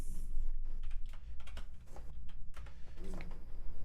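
Someone types on a computer keyboard while writing JavaScript code, a quick, irregular run of close, light key clicks and taps with brief pauses between bursts.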